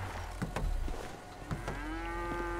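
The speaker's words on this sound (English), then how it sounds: "No, it's a cow." A cow in Grand Theft Auto V gives a drawn-out moo that rises steadily, heard over a low in-game ambient rumble with a few clicks and thuds, and no talking.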